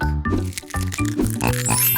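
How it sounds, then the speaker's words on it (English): Cartoonish pig oinks from a surprise egg toy in a children's song, a quick series of loud, close grunting snorts over musical backing. "It's a pig."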